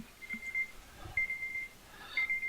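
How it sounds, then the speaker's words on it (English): Electronic alert beeps from the video game Oxygen Not Included, three sustained high tones sounding at even intervals over a faint low background, with no talking. "I hear beeping."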